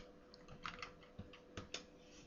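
Soft keystrokes on a computer keyboard as a search is typed: a quick, irregular burst of faint clicks, heard close and quiet with no talking.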